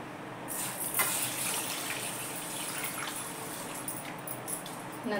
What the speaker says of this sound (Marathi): त्यात पाणी घालून ठेवते मी.